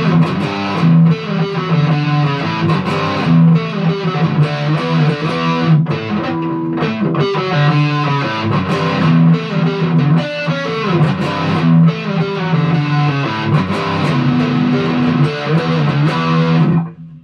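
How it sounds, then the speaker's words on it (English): An electric guitar played through heavy distortion, with thick sustained chords and riffs ringing loud and continuous for the whole stretch, and no voices. "throwing some distortion on it."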